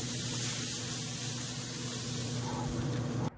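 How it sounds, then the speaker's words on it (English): Liquid spritzed onto a picnic roast on a Pit Boss 700FB pellet grill, one continuous close spray hiss lasting about three seconds before stopping abruptly, with a low background hum. "Now we gotta spritz it."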